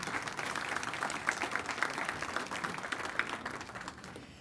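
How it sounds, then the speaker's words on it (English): An indoor audience at an honors evening gives a sustained round of applause, a dense wash of many hands clapping that fades slightly toward the end. "please join me in giving them all a round of applause"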